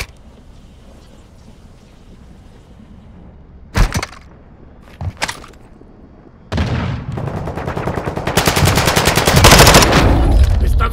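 Gunfire from Call of Duty: Modern Warfare II: two sharp isolated shots crack out after a quiet stretch, then dense rapid automatic fire erupts and keeps building, loud and close.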